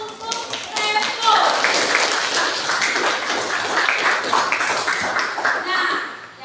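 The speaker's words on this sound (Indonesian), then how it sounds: "beri aplaus untuk Revo" A class claps for a student: steady, dense applause of many hands, fairly close, holding at an even level for several seconds.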